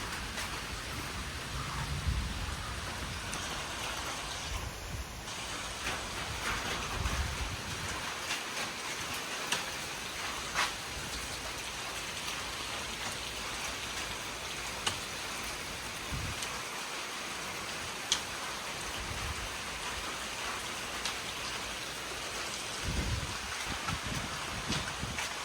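Heavy afternoon storm rain pours down in a dense, continuous hiss with occasional louder drips and spatters nearby, no voices.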